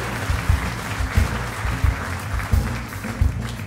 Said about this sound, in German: Applaus schon am Anfang, ja